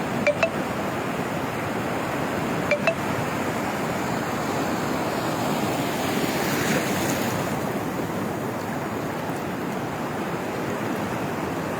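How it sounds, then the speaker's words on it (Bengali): Huge surf pounds Cox's Bazar beach in Bangladesh during a cyclone, a steady, loud, broadband roar of crashing waves and wind that never lets up, with no voices over it. "পঞ্চাশ ফিট উঁচু হয়ে আসতেছে ঢেউগুলা এত বড় বড়"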